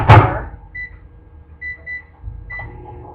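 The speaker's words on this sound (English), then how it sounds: "Put it in the microwave for a minute and let that melt." Microwave oven melting butter for gluten-free bread, opening with a loud clunk of the door or start, then a low steady hum with a few short beeps, no talk.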